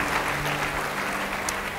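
A church congregation gives a short round of applause during a sermon, a close, dense patter of clapping that stays even for the whole brief moment.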